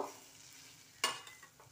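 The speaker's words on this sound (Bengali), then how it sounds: "সুজিটাকেও একটু ভাজা ভাজা করব।" A faint, quiet sizzle of semolina roasting in a pan with a single sharp scrape of stirring partway through.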